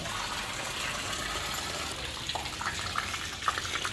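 A secondary well pump on a beach house build in the Philippines test-runs, pushing dirty stirred-up water in a steady rushing gush with a few splashy spurts toward the end.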